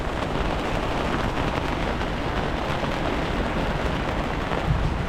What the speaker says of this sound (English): We expected this rain, but it's going pretty hard, as you can see.